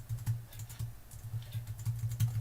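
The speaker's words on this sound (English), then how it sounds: "I'm pressing keys like a madman." Computer keys pressed rapidly while playing a Minecraft-style game, a close, quiet flurry of irregular clicks and taps with no talk over them.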